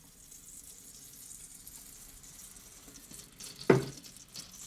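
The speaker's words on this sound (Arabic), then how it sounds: "راح نحط هنا في المقلاية معلقة كبيرة من الزبدة، وراح نحط زيت زيتون" Butter and olive oil heating in a frying pan, a quiet, steady sizzling hiss that builds slightly, with a brief louder splash of crackle near the end, close and alone.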